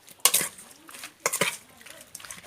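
Ingredients for a leaf-wrapped eel dish are tossed together in a bowl, giving close, uneven scraping and clinking bursts with soft rustling between them.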